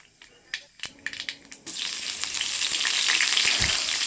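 Whole spices — dried red chillies, bay leaf and black cumin (kalo jeere) — dropped into hot oil for tempering a rohu fish curry with drumsticks; a few light clatters give way to a loud, steady sizzle that swells and holds.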